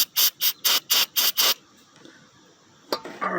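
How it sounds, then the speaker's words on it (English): Aerosol cleaner sprayed onto an AC compressor fitting in about six short, loud, hissing bursts in quick succession, followed by quiet handling noise and a brief clatter near the end. "let's spray some cleaner on there."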